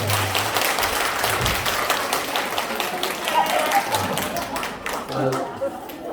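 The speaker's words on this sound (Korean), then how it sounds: "이렇게 우리 박수 한번 해주세요." A disaster-prevention training audience breaks into applause, with sustained clapping from a large crowd filling the room at an even, loud level, while a speaker's voice carries faintly over it.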